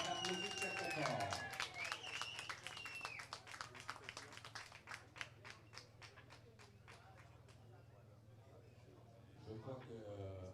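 Audience at a cycling leader's jersey ceremony clapping, a burst of dense hand claps that thins into scattered individual claps and fades, starting under an announcer's voice and music.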